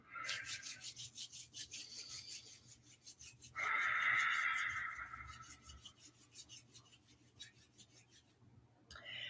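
Palms rubbing briskly together during a kundalini yoga practice, a steady dry rasping friction that swells louder for a couple of seconds midway, then eases back to a softer rhythmic rub.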